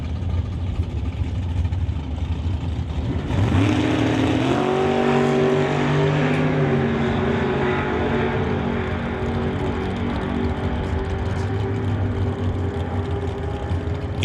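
A 1963 Corvette and a 1971 Chevelle in a Doorslammers drag race at an NHRA Summit ET event, with a loud engine roar that surges at launch and rising, high-revving whine as the cars pull away.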